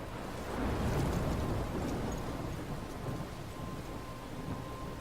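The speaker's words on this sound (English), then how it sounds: "I'm trapped in a storm?" Rumbling thunder and steady heavy rain from a thunderstorm in the video game Life is Strange, a low roll swelling early then settling into a continuous wash of rain, fairly quiet and with no voices.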